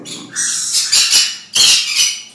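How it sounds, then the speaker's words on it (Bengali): A tame three-year-old parrot, kept as a friendly pet bird, gives loud, harsh squawks up close, two or three raspy bursts in quick succession with brief gaps, no talking. "চমৎকার একটা পাখি, ফ্রেন্ডলি পাখি।"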